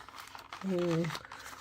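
Packaging around a Disney Doorables doll crinkles and rustles in short bursts during unboxing, close and fairly loud, while someone talks and briefly hums.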